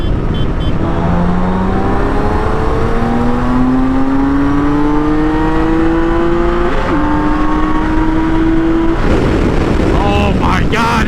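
A tuned BMW K1600 GT motorcycle pulls hard in fourth gear, its engine note climbing steadily in pitch for several seconds, then briefly dipping before rising again and cutting off, loud and close with wind rush throughout.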